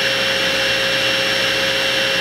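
A power saw blade cuts a wooden board held in a jig for a budget wood bench, a loud, steady, close whine with a constant motor hum that holds for the whole stretch.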